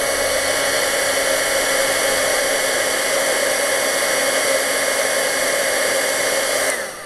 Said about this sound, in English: I'm going to use my heat tool and heat up